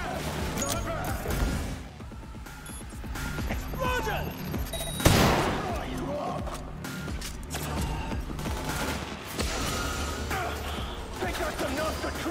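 Gunfire in the Cyberpunk 2077 video game, dense rapid shots layered under a busy mix of music and effects, with one sharper loud burst near the middle and talk mixed in.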